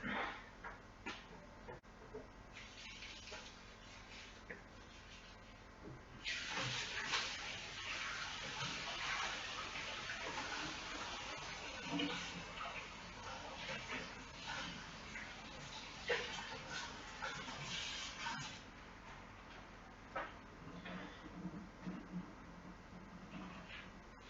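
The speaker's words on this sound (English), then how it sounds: "I'm just going to wash my hands" Water runs from a tap for hand washing, a faint continuous splashing stream that swells midway and carries on with small clatters, recorded quietly at a distance.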